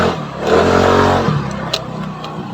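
A motor scooter with an upgraded CVT accelerating hard, its engine revving up loud and close for about a second before easing off, with a brief click near the end.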